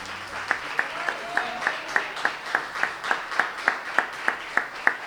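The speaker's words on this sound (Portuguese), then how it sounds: "Pode aplaudir ao Senhor." A church congregation at a family worship service claps in a steady, regular rhythm, about three claps per second, moderately loud and close, with light background voices.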